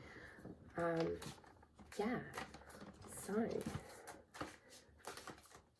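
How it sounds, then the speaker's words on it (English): A deck of reading cards is shuffled in quick, crisp riffling bursts close by, with brief speech between them. "I'm shuffling cards"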